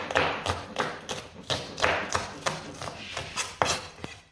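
A knife chops vegetables for mulligatawny soup on a board, landing about a dozen steady, evenly paced thuds and taps close by, with no talking.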